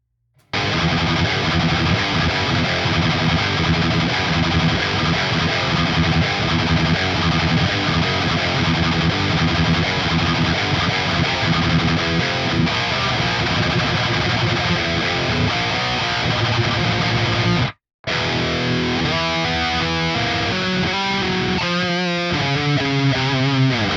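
An ESP LTD TE-200DX electric guitar played through a distorted amp channel on the bridge pickup, with loud, sustained crunchy riffs filling the passage, a brief cut to silence, then choppier distorted phrases.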